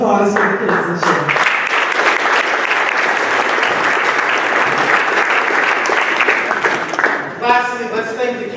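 An audience at a boys varsity banquet breaks into loud, sustained applause and clapping that fills the room, with voices talking at the start and again as it tapers toward the end.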